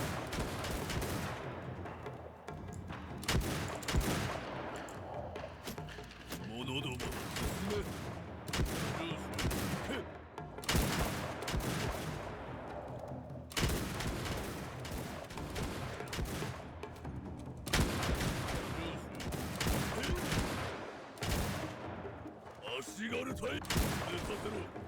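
Ranged units fire massed volleys in the Shokuho samurai strategy game, a dense ongoing crackle of shots and battle noise with repeated loud bursts, while someone talks over it throughout.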